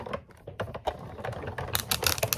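A die cutting machine embossing a piece clatters with rapid, uneven mechanical clicks and rattles, fairly close, getting a bit louder and busier toward the end.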